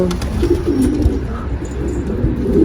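Young pigeon landing and cooing, soft low coos and a flutter heard up close over a steady background rumble.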